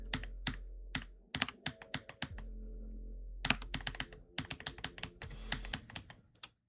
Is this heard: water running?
no